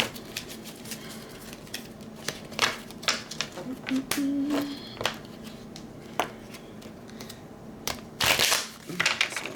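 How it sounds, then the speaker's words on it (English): Tarot cards being shuffled by hand at close range, with repeated papery riffles and taps in irregular bursts, a louder flurry near the end, and faint background noise. "Shuffle up a little bit."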